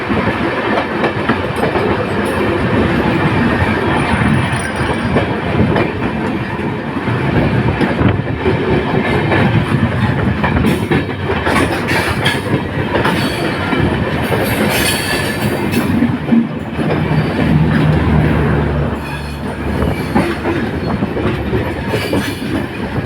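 The Banalata Express, running with Chinese CRRC coaches, rolls along loud and close from on board, with a continuous rumble, rhythmic clickety-clack and brief wheel squeals near a bridge crossing, and no speech.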